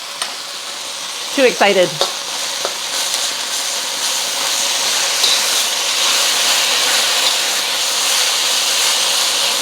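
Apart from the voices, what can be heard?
garlic, ginger and beef stir-frying in a pan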